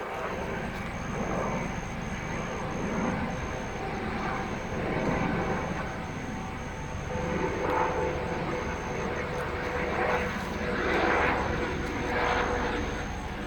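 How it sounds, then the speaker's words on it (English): A National Guard helicopter passing overhead above a storm-damaged property after Hurricane Michael, a steady broad rotor and engine roar that swells and fades slightly, with faint voices in the background. "There's a National Guard helicopter. It's flying right over the property right now."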